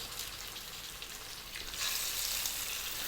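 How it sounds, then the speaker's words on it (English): Fish frying in a pan over medium heat for a Bengali machher jhol, a soft, steady crackling sizzle that swells slightly louder partway through, with no voices. "we're going to get our fish in there. We're on a medium heat and we're going to fry these"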